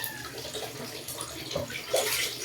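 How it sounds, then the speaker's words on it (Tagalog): Water is poured over a bathing baby, splashing and trickling close by in a short, uneven stream, with a few louder gushes toward the end. "Patakan ko yung tubig."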